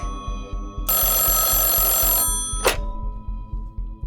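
A telephone bell rings loudly for over a second, then a single brief ring follows, over a steady low rhythmic thumping background.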